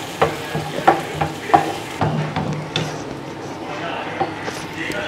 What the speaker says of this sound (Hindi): इसमें हम दही डाल देंगे और इसको अच्छी तरह से मिक्स कर देंगे सालन के साथ